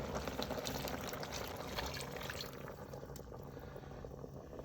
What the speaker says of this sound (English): And now we're going to add the last bit of water, another 2 cups.